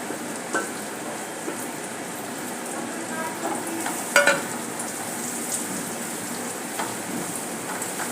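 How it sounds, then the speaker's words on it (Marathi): Chopped bitter gourd frying with roasted spices in a pan for karle bhaji, a steady close sizzle with occasional scrapes and taps of stirring. "सर्व आपण परतून घेऊया"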